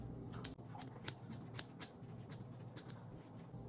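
Scissors trimming the pile of a tufted rug, a series of quiet, close snipping cuts at an uneven pace over a soft low background hum.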